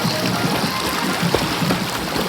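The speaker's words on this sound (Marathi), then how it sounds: "तर ही आहे ती नदी" A small village river flows in a steady, hissing rush of water, close and continuous, with faint trickling detail on top and no voices.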